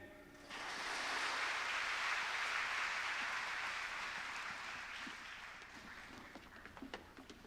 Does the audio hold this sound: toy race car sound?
no